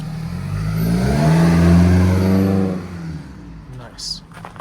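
A Scion tC engine revs up and holds at a steady mid-pitched drone, then eases off, close and loud, with a brief voice near the end.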